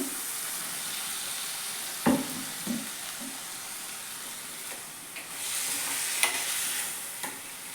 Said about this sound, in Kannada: ನಾನು ಮಿಕ್ಸಿ ಮಾಡ್ಕೊಂಡಿದ್ನಲ್ಲ ಅದೇ ಜಾರಲ್ಲಿ ಸ್ವಲ್ಪ ನೀರು ಹಾಕ್ಬಿಟ್ಟು ಇದಕ್ಕೆ ನಾನು ಹಾಕ್ತಾ ಇದ್ದೀನಿ